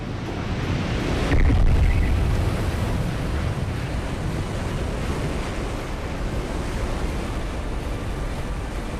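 Continuous roar of heavy ocean surf, a tsunami wave surging, broadband and steady throughout with a slight swell early on, no voices.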